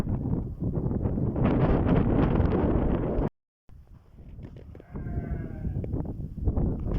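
Sheep bleat near a wedding venue over heavy wind buffeting, with loud gusts, a brief dropout, then further calls and a faint warbling tone in the background.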